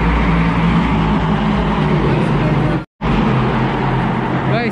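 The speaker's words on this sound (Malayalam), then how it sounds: "ഇവിടെ കുറച്ച് വെറൈറ്റി ഫോർമുലൻ്റെ വണ്ടിയും കാര്യങ്ങളൊക്കെ തന്നെ കാണുന്നുണ്ട്" Formula race cars lap the Dubai Autodrome during an Asian Le Mans Series event, a loud continuous engine roar from close by, with a brief cut partway through and a car passing near the end.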